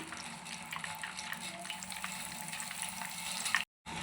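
KFC-style chicken pieces frying in oil on low heat, a soft, even bubbling sizzle held steady throughout before a brief cutout near the end, faint and with no talking.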